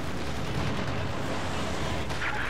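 An air strike pounds a winter battlefield in the strategy game Company of Heroes 2, with a continuous loud rumble of explosions and artillery fire and occasional sharper bursts over a dense roar.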